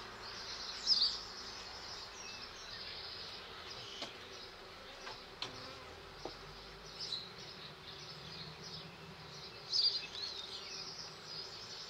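Honeybees in an opened beehive make a dense, steady buzz throughout, with a few louder close swells as single bees pass near.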